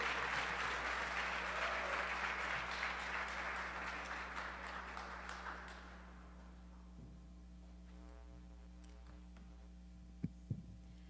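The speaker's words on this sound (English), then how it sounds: "Won't you welcome her by giving her a round of applause?" Applause from an audience welcoming a speaker to the stage at an evening event, a broad, steady clatter of clapping that fades over several seconds into a quiet room with low hum and a couple of soft knocks.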